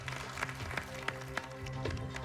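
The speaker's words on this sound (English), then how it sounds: "Give yourselves a round of applause." A studio audience at a MasterChef US cooking challenge claps as the countdown ends, a brief, fairly faint patter of applause with a few sharper individual claps over a steady low background hum.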